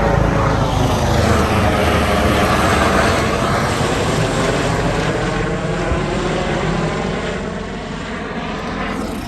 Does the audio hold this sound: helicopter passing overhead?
yes